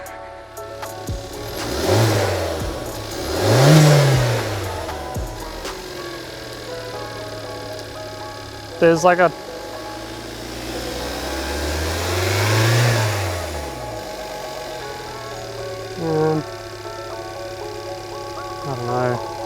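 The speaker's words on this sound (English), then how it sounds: "we'll give it a rev. It does sound a little ticky." Used car at an Australian auction, its engine slightly ticky: several rising and falling revs of a mid-pitched motor, with brief clanking between them and people talking over it.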